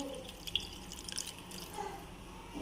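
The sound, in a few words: milk being poured into rice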